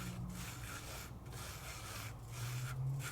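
A finger rubbing adhesive foil paper on a die-cut design, a soft, continuous close-up scratchy friction with slow back-and-forth swells and no talk.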